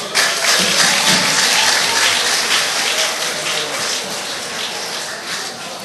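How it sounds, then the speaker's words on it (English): Loud, sustained clapping from a crowd, a dense wash of hand claps that holds steady for several seconds and eases slightly toward the end. "Another round of applause for him"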